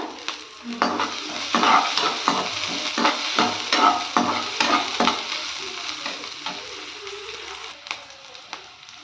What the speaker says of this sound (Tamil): ஆனியன் வந்து பார்த்தீங்கன்னா நம்ம நல்லா வதக்கிக்கிடணும்